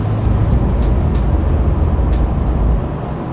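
A V8 engine in a four-wheel-drive explorer van pulls hard on the highway, a loud, steady interior drone with road roar that eases slightly near the end.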